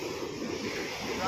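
Water pours down from the gates of a dam near Anantapur, a steady broadband rushing roar lasting just over a second with no break.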